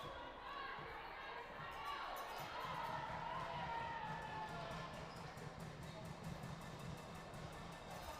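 Gym crowd roars steadily at a women's college volleyball championship semi-final as a player prepares to serve, with rhythmic thumping and stomping pulsing through the dense, continuous noise for the whole stretch.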